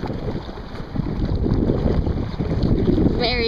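A small boat cruises through open water, its hull swishing steadily beneath a heavy rush of wind buffeting the microphone, loud and continuous throughout.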